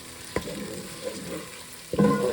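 Tomatoes with extra ginger hit a hot pan in a home kitchen, frying with a steady low sizzle, punctuated by two sharp stirring clatters, the second followed by a louder burst of spitting.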